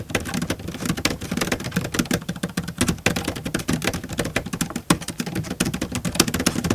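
Typing on the numeric keypad of a large budget laptop, rapid dense clicking keys tapping continuously and fairly close, with no voices.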